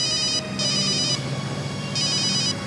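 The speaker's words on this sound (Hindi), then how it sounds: "एसीपी सर का फोन।" An incoming call rings on a telephone, two loud electronic trill bursts with a short pause between them, heard alone without speech.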